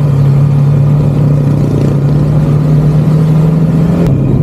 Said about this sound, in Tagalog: Natutuwa ako sa performance ng motor natin kasi nga magpalit tayo ng sprocket combination